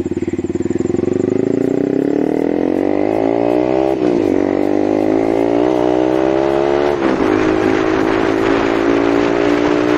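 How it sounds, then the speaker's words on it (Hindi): A Yamaha MT-15 BS6 motorcycle with a loud aftermarket exhaust revs up and pulls away, the engine note rising through two gear changes, close and steady. "आपको सुनाते हैं एग्जॉस्ट का साउंड"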